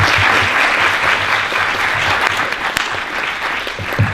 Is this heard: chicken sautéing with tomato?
no